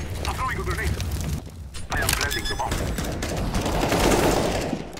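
AK rifle gunfire in a tactical shooter match with defuse rounds, sharp cracking shots in a fast burst, loud and close, mixed with a game soundscape while people talk excitedly over it.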